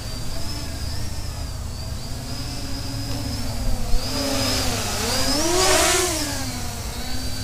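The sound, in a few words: HiSky HMX 280 drone motors revving on throttle punch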